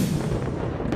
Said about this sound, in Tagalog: Sinundan niya ng sunod-sunod na malakas sa pagsabog.